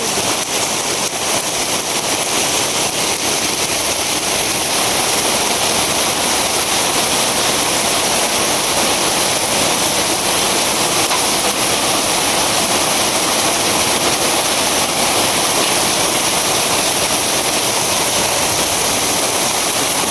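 Heavy rain falls in a constant, loud roaring wash outside a village home, unbroken and even for the whole stretch with no voices.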